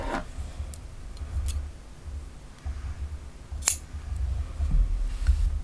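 Scissors snip through fuchsia yarn during crochet work on a granny-square top, a few soft metallic clicks close by amid quiet handling noise.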